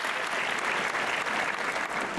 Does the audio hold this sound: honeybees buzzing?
no